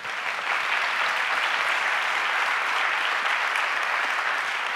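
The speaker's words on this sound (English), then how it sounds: "I think we should give her a round of applause." During a keynote address at the ICSD 2018 conference, a large audience bursts into loud, even applause that swells quickly and holds steady throughout.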